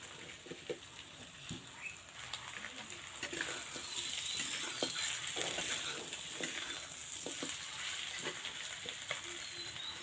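Meat sautéing with spices in a pan for a Bengali curry, a steady dense sizzle and crackle close up with small splashes of water added, continuous throughout.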